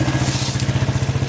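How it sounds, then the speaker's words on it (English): A loose, dry drive chain slaps and rattles on a Suzuki quad with the engine running, giving a steady fast metallic clatter over a low engine throb. The sound is close and fairly loud, with no talk. "almost sounds like loose rattling metal"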